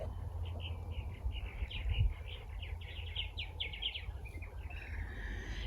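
Birds sing outdoors on a chilly day, a run of quick, faint chirps and trills over a low steady background hum, carrying on for several seconds without a break.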